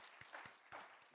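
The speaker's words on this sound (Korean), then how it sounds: "박수하겠습니다" An audience applauds at a Korean university chapel service during a scholarship presentation, a short burst of clapping from a moderately distant crowd with a few sharper individual claps.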